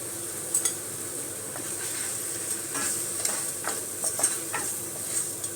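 Spices, chili powder and tomato with softened onion sautéed and stirred in a frying pan for a Tamil kuzhambu, giving a steady close sizzle broken by repeated scraping and clinking of a spoon against the pan.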